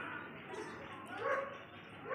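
Dogs bark at a cat hiding up a tree, heard as muffled, somewhat distant yaps and whimpers under steady outdoor background noise.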